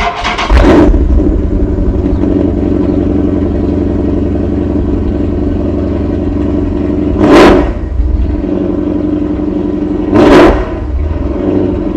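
A Hemi V8 with sixteen freshly replaced spark plugs cranks, fires up and settles into a loud, steady idle close by, with two brief revs rising above the rumble.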